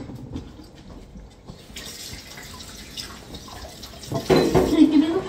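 Tap water runs into a sink as someone washes their hands, a steady wash that swells louder toward the end, with faint speech in the background.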